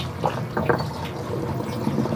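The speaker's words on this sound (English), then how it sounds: "I'm gonna go ahead and pour it." Simple syrup for tiki drinks pours steadily into a container, a continuous liquid trickle and splash at close range, moderately loud and unbroken with no talking over it.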